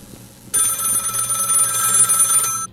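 Electronic telephone bell ringing in the horror video game Find Yourself, a bright rapid trilling ring that starts sharply and sounds for about two seconds before stopping, alone and close.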